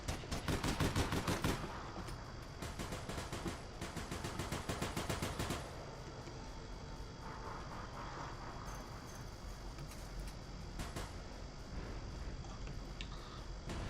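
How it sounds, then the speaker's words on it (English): Gunfire in the video game APB: Reloaded: rapid automatic bursts that rattle loudly at first, then lighter scattered shots in the background. "Gunshots."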